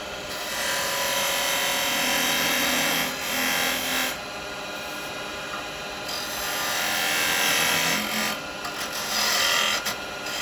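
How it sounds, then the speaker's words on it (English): Wood spins on a lathe as a tenon tool cuts a tenon on the end, giving a continuous scraping, rasping hiss over a low motor hum, with cuts swelling and easing in waves. "Right, I'm going to put tenon on the end here."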